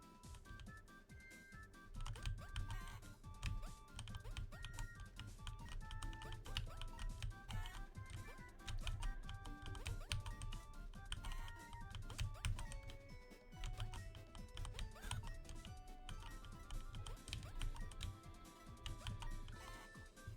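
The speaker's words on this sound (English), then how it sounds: "Sorry you hear my keyboard." Steady, fast typing on a computer keyboard during a gaming session, continuous close clicking keystrokes lasting around twenty seconds, with music playing quietly underneath.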